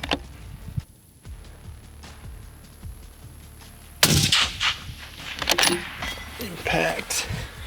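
Rifle shots fired from a barricade railing at a target about 520 out, sharp broadband blasts around the four- and five-second marks over steady outdoor background noise.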